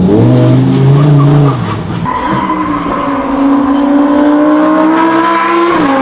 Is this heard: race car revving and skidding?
yes